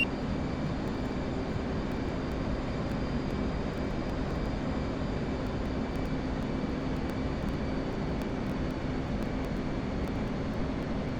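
F/A-18C Hornet jet engine in the DCS flight simulator game, a steady, even roar with a faint high whine that continues unchanged at moderate level for the full eleven seconds.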